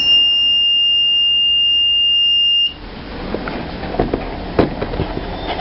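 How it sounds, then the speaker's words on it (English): An automated medicine dispensing and alert system sounds its first alarm: a loud, steady electronic tone held continuously for about two and a half seconds, then cut off abruptly, leaving faint room noise with a couple of soft clicks. "there will be a first alarm."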